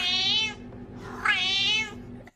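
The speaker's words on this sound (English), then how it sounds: "she thought a cat had a Scouse meow" A cat meows twice, loud and close, each a drawn-out, slightly nasal cry with a Scouse-sounding accent, separated by a short pause.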